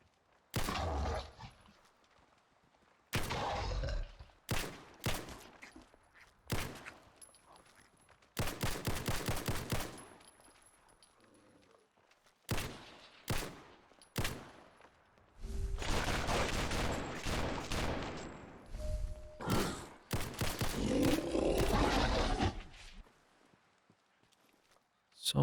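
Bursts of gunfire in Fallout 4 crackle in separate volleys, some rapid and sustained, others short single blasts, spread across the scene with quiet gaps between them and no talk.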